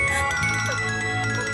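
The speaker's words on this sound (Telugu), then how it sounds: "ఫోన్." A phone ringtone plays in a dramatic indoor scene, a steady melodic electronic tune with sustained tones over a low background hum, filling the short moment without speech.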